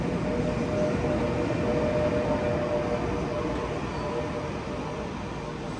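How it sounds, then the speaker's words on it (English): A Long Island Rail Road train running in electric mode pulls up to the platform at Long Island City, giving a steady, fairly quiet rumbling hum of wheels and motors that eases off slightly toward the end. "Here's train 39 from Montauk-Penn Station, pulling up to the platform in electric mode."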